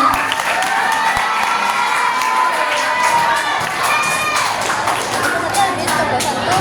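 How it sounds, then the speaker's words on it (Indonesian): Students at a junior high school scout organization Q&A applaud and cheer for a classmate, a loud, dense crowd of young voices shouting and whooping over scattered clapping, sustained throughout. "Tepuk tangan dulu untuk Burma."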